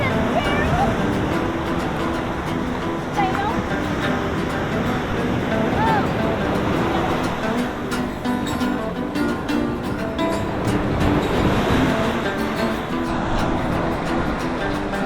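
Ocean surf washes and crashes continuously in a broad, steady roar, with people's voices calling out faintly over the water.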